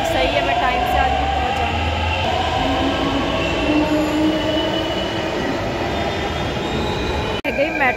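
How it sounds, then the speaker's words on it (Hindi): A metro train pulls out of the station with a loud rumbling roar, rising whine and squealing wheels that carry steadily close by, ending with a sharp click. "गई मेट्रो चली गई"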